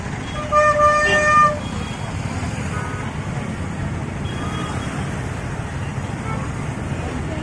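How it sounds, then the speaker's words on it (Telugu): Heavy road traffic jammed near Appa circle on the way to Chilukur Balaji temple: a steady rumble of engines and road noise with a short burst of horn toots early on and a faint beep later, no clear talk. "సో ఇక్కడ చూసుకున్నట్టయితే ఫుల్ ట్రాఫిక్ ఇది అయితే ఫుల్ ఉంది"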